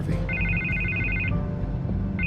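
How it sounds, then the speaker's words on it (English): A telephone rings in Batman - The Telltale Series: a repeated electronic trill in steady bursts, pausing briefly and starting again over low background ambience. "I can't get the phone to stop ringing."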